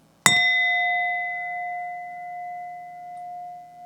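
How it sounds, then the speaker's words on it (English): A single bell is struck once, ringing out clearly and loudly before its pure tone hangs and slowly fades over several seconds in an otherwise quiet room. "As the second bell rings out, a spirit appears."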